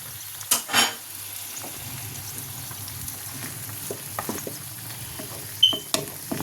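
Pancakes frying in oil over a high gas flame give a steady soft sizzle. A few louder clinks and scrapes of a utensil against the pan break in near the start and again toward the end.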